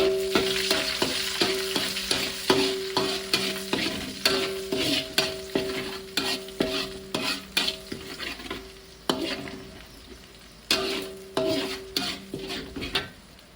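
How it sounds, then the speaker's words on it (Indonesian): Finely ground shrimp fries in hot oil for fried rice, crackling and sizzling steadily while a spatula scrapes the pan in a regular rhythm of repeated stirring strokes. "ini minyak panasnya. Aku tuang udang yang sudah digiling halus."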